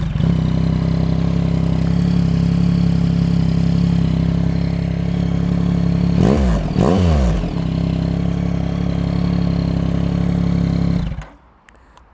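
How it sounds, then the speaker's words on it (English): Yamaha MT-09 Gen 3 motorcycle with a LeoVince LV Race exhaust idling close by, a steady deep throb, then a couple of quick throttle blips midway before settling back to idle and cutting off near the end. "Let's start the bike so that you can hear the sound of it, because it's really fantastic. This LeoVince LV Race, it's awesome and sounds great"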